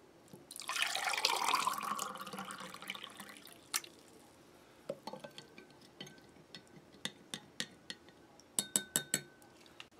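MRE drink mix powder poured into a 16 or 20 ounce plastic bottle of water, a soft rushing pour followed by a scatter of small clicks and plastic taps, close and quiet with no talking.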